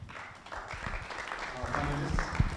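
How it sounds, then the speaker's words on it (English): Applause for the panelists at a cooperative movement stakeholders' conference, a light patter of clapping from the audience that grows a little toward the end while a host's voice carries over it. "A big applause for"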